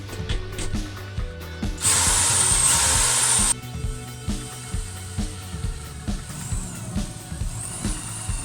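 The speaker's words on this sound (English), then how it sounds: "to drill a hole for the exhaust pipe to go out through the wall" A power drill running on off-grid generator power bores through a wall for an exhaust pipe. Repeated knocking, ratcheting thuds are broken by a loud, bright, steady whine lasting nearly two seconds.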